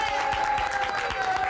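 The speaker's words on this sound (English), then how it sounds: "And if we may now, ladies and gentlemen, by way of applause," Studio audience applause for wrestler Tony Atlas on a wrestling talk show, a steady dense clapping wash with crowd noise and a faint tonal hum underneath, continuous throughout.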